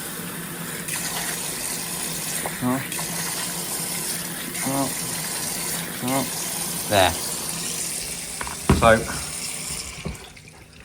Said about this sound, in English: So let's just show you how much water we're going to put in.